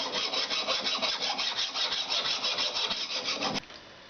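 Rapid, scratchy back-and-forth rubbing deburrs a metal part freshly machined on a shaper. The rasp is quiet and close, then stops abruptly with a small click near the end.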